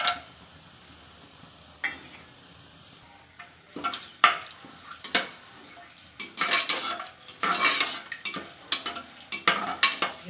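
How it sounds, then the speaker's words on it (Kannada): Spices and a bay leaf tempering in hot oil for mushroom biryani, crackling sizzle broken by repeated loud metal scrapes and clatters of a spoon against the pan, close and uneven in rhythm, no talking. "ಒಗ್ಗರಣೆ ಐಟಮ್ ಎಲ್ಲ ಹಾಕ್ಕೊಳ್ತಾ ಇದ್ದೀನಿ ಫಸ್ಟ್ ಪಲಾವ್ ಎಲೆ ಹಾಕ್ತಾಯಿದ್ದೀನಿ"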